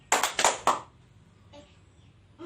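A classroom of pupils claps in unison on the teacher's cue, three sharp, close claps in a quick rhythm, followed by near silence with a faint tap at the end.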